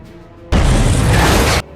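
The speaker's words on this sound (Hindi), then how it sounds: "और फिर एक दमदार विस्फोट हुआ" A sudden, loud explosive blast erupts and roars at full strength for about a second before cutting off abruptly; no voices.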